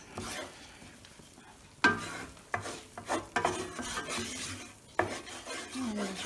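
A spoon stirs a roux of butter and flour with mushroom drippings in a pan, scraping and clinking against the metal in irregular strokes over a soft, steady sizzle, close and clear with no talking.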